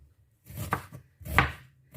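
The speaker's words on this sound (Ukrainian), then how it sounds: "Так, і ріжемо цибульку дрібненько-дрібненько." A knife chops an onion finely on a board, giving two distinct close thuds with crisp cutting noise and near silence between them.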